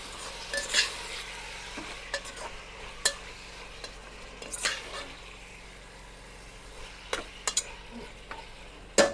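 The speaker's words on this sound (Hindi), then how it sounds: "इसको हाफ आवर तक फ्राई करेगा बिना मसाला का" Mutton without spices is stirred and fried in a pot, giving a faint steady sizzle broken by scattered scraping and clinking of a spoon against the metal, with sharper knocks at irregular intervals.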